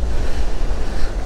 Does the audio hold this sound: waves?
yes